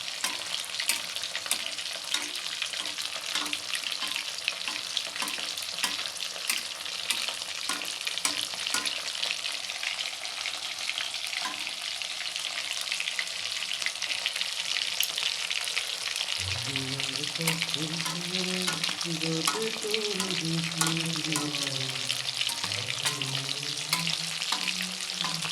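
Eggplant pieces frying in oil in a pan, a continuous close sizzle and crackle with occasional stirring scrapes, joined midway by a loud tonal hum underneath that wavers and persists to the end.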